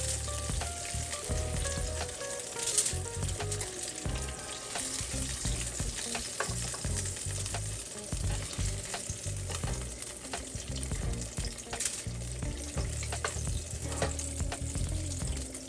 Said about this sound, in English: Just to saute it a little bit into that butter.